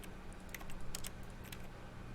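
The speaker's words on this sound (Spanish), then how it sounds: "aunque pulse el clic, suena una especie de tecleo en el juego" In-game keyboard typing from The Stanley Parable: quick, irregular clacks of keys, faint and close, tapping over a quiet steady background hiss.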